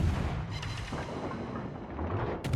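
Naval guns firing shells in a warship battle game, heavy booming low rumbles rolling continuously through the moment, with a sharper burst near the end.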